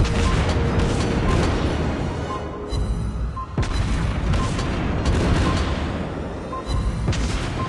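Torpedo hits landing on an enemy ship in World of Warships Blitz (Udaloi, Grozovoi destroyers): a loud, continuous rumble of booms and crashes with a sharp impact near the middle, no talking.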